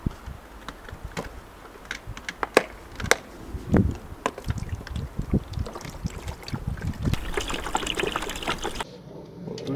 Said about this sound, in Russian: литр апельсинового вылили